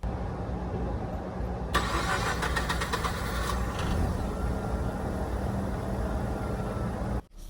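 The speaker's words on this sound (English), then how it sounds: "So here we go with the startup." A 2005 Mazda RX-8 rotary engine with a six-speed manual cranks briefly, fires up and settles into a steady, buzzy idle heard close, with no talking.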